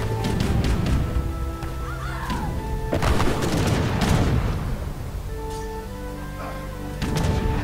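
Cannons, including culverins, fire in the real-time strategy game Age of Empires III during a 1v1 tournament battle. Occasional deep booms and sharp impacts sit within a dense, continuous wash of battle effects and bird-like calls.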